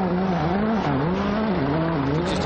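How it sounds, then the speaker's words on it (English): Close-up engine note of a WRC rally car held on the throttle during a Jordan Rally power stage, a loud steady drone whose pitch rises and dips in waves as it works over bumps, with no talk. "You just hear the car working on the throttle"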